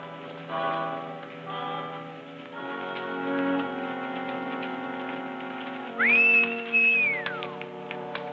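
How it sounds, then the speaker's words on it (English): In a 1939 Western film, a person gives a single loud whistle for a horse: a sharp rising note that holds briefly and then falls away, heard over quiet background music. "Whistling for that horse."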